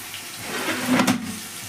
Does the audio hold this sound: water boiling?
yes